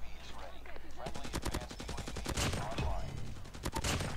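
Rapid bursts of gunfire from a ranked shooter video game, with the Damascus Hades weapon, crack out in quick repeated volleys through most of the clip, loud and close, mixed with game sound and a voice in the background.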